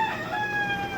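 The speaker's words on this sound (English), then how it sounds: "I'm sorry for the crackle-doodle-doo of the roosters." Roosters crow in a brief, clear burst, a drawn-out cock-a-doodle-doo heard at moderate distance with no talk over it.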